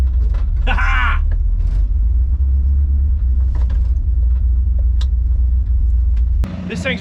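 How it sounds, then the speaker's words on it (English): An old Ford F100 truck, abandoned in a forest for over 25 years, idles with a loud, steady, low engine rumble up close while someone speaks over it, and a brief squeal rises near the start. "This thing's running really good and it goes into gear."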